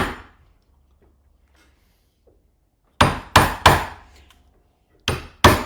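A hammer strikes a tool during violinmaking: five loud, sharp, close blows come in two quick groups after a quiet stretch, each ringing briefly, with no talking.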